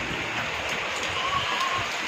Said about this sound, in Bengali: এখানে অজস্র বৃষ্টি হচ্ছে আর ঠান্ডা ঠান্ডা হাওয়া দিচ্ছে।